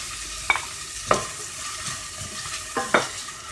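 Ginger, garlic and green peas being sautéed in a pan for egg pulao, a steady low sizzle broken by a few sharp clinks of a spoon against the pan.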